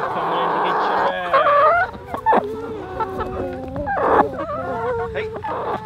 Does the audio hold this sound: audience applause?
no